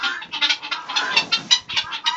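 Laying hens cluck in a barn, a close and busy stream of overlapping clucks and squawks with no voices.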